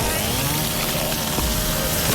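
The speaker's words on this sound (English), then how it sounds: "you can shoot the chainsaws out of their hands and then use the chainsaws to tear up a room full of zombies" A chainsaw in the Resident Evil Requiem video game runs loud and continuous, a dense buzzing snarl held steadily throughout, with no voices.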